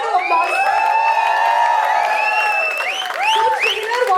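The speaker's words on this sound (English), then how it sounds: "Give a round of applause." A crowd at a film music and trailer launch cheers and whoops with bright, rising voices, sustained and lively over a light patter of clapping, with no distinct speech.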